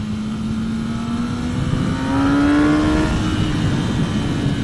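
A 2024 Kawasaki Ninja ZX10R sport bike rides a rural road, its engine droning steadily and rising in pitch as it accelerates, loud and close against rushing wind.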